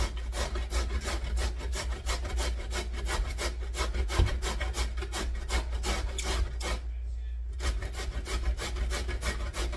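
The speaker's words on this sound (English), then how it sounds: "I have my grater here, and skin and all, just start grating" Unpeeled zucchini is rubbed against a hand grater in rapid, even rasping strokes, close and continuous, with a brief pause near the end before the scraping resumes.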